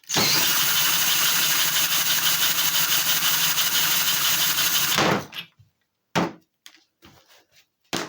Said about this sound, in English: I'm going to spin the crankshaft with my electric drill